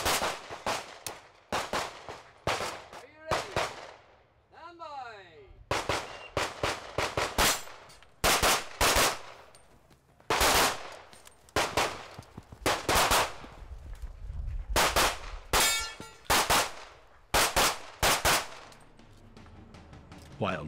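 Rapid bursts of pistol or rifle fire ring out during a timed run at a shooting competition match, sharp loud shots in quick clusters separated by short pauses, with a brief electronic beep partway through.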